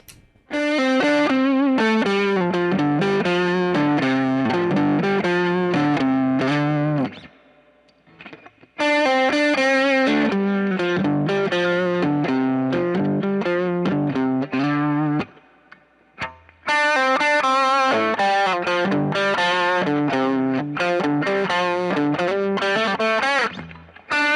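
A DemonFX King Of Drive overdrive pedal driving an electric guitar, playing distorted chords and riffs in three loud bursts separated by short pauses, with a chorus-like shimmer and no talking.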